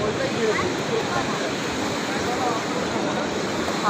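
Released water rushes in a loud, steady roar, a dense broadband wash that holds constant and close without any break.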